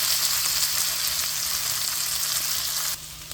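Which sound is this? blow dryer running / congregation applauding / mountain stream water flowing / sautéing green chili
sautéing green chili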